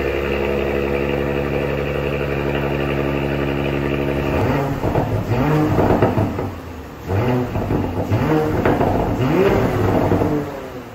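A 2024 Porsche Cayenne E-Hybrid with sport exhaust and dual tailpipes runs steadily at idle, then is revved in several loud, close bursts that rise and fall, with a brief dip between them.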